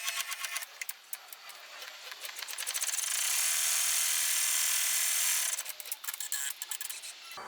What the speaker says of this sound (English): I'm going to pop the hoop in, and the first step is to stitch out the placement line.